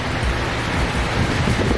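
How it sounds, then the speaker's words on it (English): Heavy rain pours down in the El Yunque rainforest in Puerto Rico, a loud, dense, continuous hiss with low rumbling underneath, close and unbroken. "Do you hear that? That's rain."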